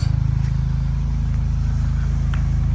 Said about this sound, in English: could you just give it a little rev for me? So before Dan moves away from the car